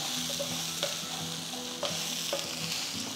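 Onions sizzle steadily in a hot pan as they are sautéed, with occasional scraping and stirring clicks from a utensil; no voices.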